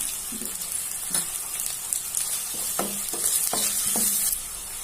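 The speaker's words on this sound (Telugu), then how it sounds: "అల్లం వెల్లుల్లి కూడా వేగిపోయింది. ఇప్పుడు పసుపు వేసుకుంటాను." Onion, ginger garlic paste, turmeric and curry leaves fry in a pan, giving a steady bright sizzle broken by a few scraping stirs of a spoon, near and with no voices.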